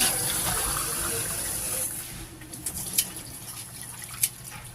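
Water pours into a cooking pot for ginataang tambalo with kamias, a steady gushing fill that stops partway through, followed by a few faint drips and light clinks, with no talking.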